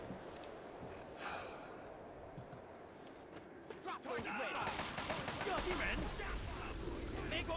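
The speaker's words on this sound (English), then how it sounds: "People shooting." Gunfire from people shooting in Fallout 3 crackles in the distance, building into dense, rapid volleys in the second half over a low game-world rumble.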